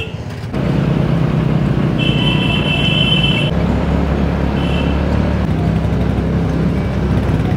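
Road traffic near Darjeeling railway station and taxi stand, a loud, steady rumble of passing engines with a couple of brief high horn-like tones, close by and continuous, with no talk.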